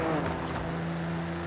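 A Nissan GT-R Nismo engine drones steadily up close while driving in Forza Horizon 5, a sustained tonal hum holding under a brief whoosh near the start, with no speech.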